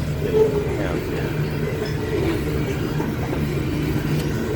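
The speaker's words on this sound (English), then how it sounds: "this train will be stopping momentarily to do a crew change" A freight train rolls past on the rails ahead of a crew change, a steady low rumble with faint wheel clatter and brief squeals, fairly loud and close throughout.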